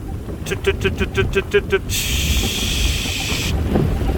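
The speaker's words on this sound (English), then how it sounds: "it's too windy. It's blowing a gale out here." Steady broadband gale-force wind on a farm buffets the microphone after a short burst of rhythmic beeping tones, with low rumble throughout.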